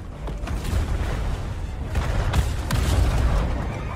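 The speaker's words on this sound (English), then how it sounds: "we're still here and the bombs are going off" Bombs go off during a Fortnite live event as a steady low rumble of distant booms and explosions, with no clear gaps between them.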